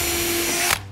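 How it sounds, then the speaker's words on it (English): A power drill bores a pilot hole into a wooden shed threshold, a loud steady motor whine for most of a second before it abruptly winds down. "Again, just pilot drill that"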